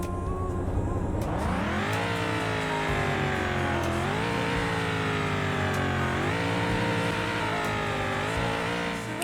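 A BMW 735 engine revving hard, climbing in pitch in repeated surges and briefly easing between pulls, a loud, close, continuous roar with no speech.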